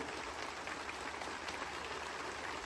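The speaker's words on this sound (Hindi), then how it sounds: "तालियों की गड़गड़ाहट से ये पंडाल गूंज जाना चाहिए" Audience applause inside a political rally tent, a soft, distant, continuous patter of many hands clapping that stays even and fairly faint throughout.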